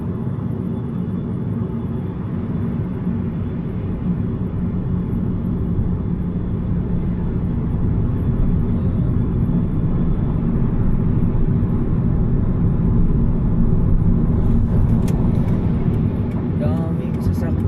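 Heavy early-morning road traffic heads toward Manila on a Monday, heard from inside a moving vehicle as a steady low rumble of engines and tyres, loud and continuous throughout, with a passing whine near the end.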